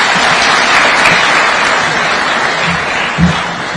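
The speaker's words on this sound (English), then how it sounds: "Another round of applause for him." Loud, sustained applause from a large audience at a Kenya Chamber of Commerce event at State House fills the clip, with a few louder claps and faint voices mixed in.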